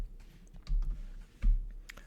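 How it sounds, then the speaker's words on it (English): Computer keyboard typing a short Linux command, a few soft scattered key clicks followed by two firmer thumps like the space or enter key, quiet and close. "let me actually type in lsblk here"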